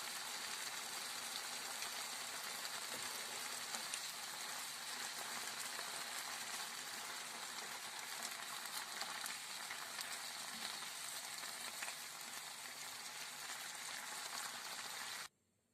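Fava beans roasting with salt in a pan give a steady, dense sizzle and crackle, loud and unbroken for about fifteen seconds before cutting off abruptly, with no talking.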